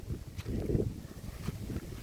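Steady outdoor wind blowing by a lake with low, broad rumble and gusty buffeting, no voices.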